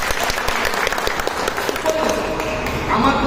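An audience at a gathering breaks into applause, a dense close burst of clapping that fills the short stretch, with a voice faintly audible toward the end.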